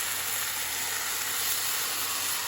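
Sauce mixture hitting chow mein noodles in a hot pan sets off a loud, steady hiss and sizzle that runs unbroken throughout, close and without talk.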